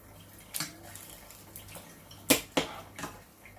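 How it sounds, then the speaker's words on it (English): Cooked green vegetables dropped into cold water in a kitchen, giving a few short, separate splashes and plunks, the loudest pair close together near the end. "you just want to take it out and put it straight into cold water"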